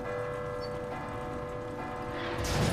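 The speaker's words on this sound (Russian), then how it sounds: "сейчас колокол" A large bell rings in the Resident Evil 2 Remake video game, its sustained metallic tones droning on at moderate loudness before a brief louder burst of noise at the end.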